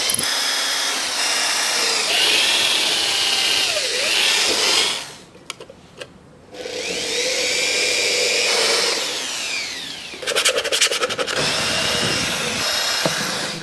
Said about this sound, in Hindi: इसको ड्रिल करने के लिए मैं कर्व ड्रिल बिट का यूज कर रहा हूँ